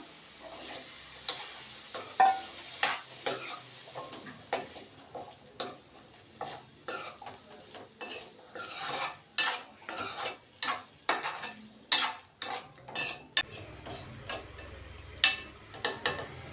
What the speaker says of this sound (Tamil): இப்போ இந்த ஸ்டேஜில் வேக வச்ச சுண்டல் போட்டுக்கலாம்